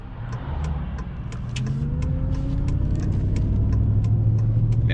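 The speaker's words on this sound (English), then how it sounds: "got a big line of traffic coming that way" A car engine drones steadily close by on a road as traffic passes, its pitch climbing slowly while the vehicle accelerates, with faint ticking over the continuous rumble.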